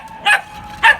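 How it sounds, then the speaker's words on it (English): A puppy gives two short, sharp barks about half a second apart, close and fairly loud, with no other sound around them. "she's a normal dog and she can bark"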